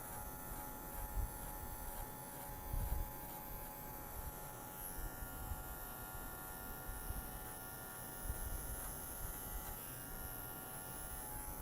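Electric hair clipper fitted with a number 1 comb buzzing steadily while cutting hair, a faint, continuous motor hum with small textured bumps as it moves through the hair.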